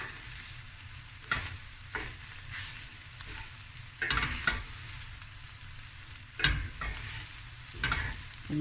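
Chicken and mushroom brown rice being stirred in a frying pan, soft sizzling underneath with scraping stir strokes recurring every second or two, close and fairly quiet.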